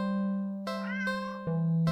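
A cartoonish cat in a cute cat video game meows twice over a steady tonal game background, the calls clear and close.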